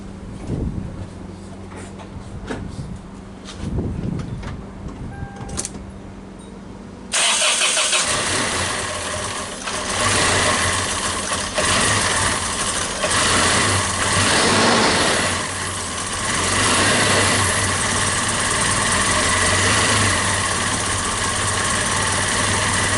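After some handling noises, a 1996 Toyota Tacoma 2.4L engine cranks and catches abruptly, then settles into a loud, steady idle.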